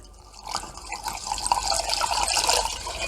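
Raspberry juice being poured into a beer fermenter, a continuous splashing, trickling liquid stream close by that grows fuller as it goes on.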